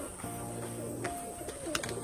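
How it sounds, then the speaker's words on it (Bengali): Tumbler pigeons perched on a rooftop coo in a few short, throaty calls that stand clear of a quiet outdoor background under light rain. "পায়রা কিছু পায়রা চালে বসে আছে"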